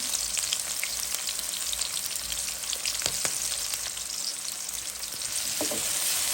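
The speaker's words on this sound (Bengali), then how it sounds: "ভাজা ভাজা মশলা" Garlic, onion, green chilli and spices fry in a pan for a Bengali bele fish dish, making a continuous close sizzle with scattered crackles and pops and no talk.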